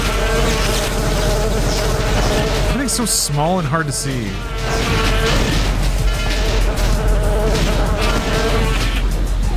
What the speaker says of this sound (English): bugs that are constantly buzzing in your ear